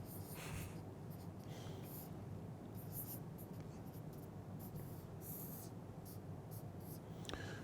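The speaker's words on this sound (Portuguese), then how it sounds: "Vou desenhar o circuitinho aqui." A pen scratches across paper as a circuit diagram is drawn by hand, with soft, close strokes and short taps that continue steadily at low volume.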